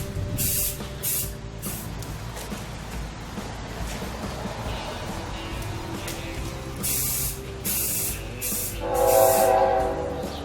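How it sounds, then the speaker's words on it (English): A BNSF freight train passes close by, its wheels and cars making a continuous rumbling clatter, with bursts of a loud horn sounding repeatedly over the passing. "That's the BNSF coming through."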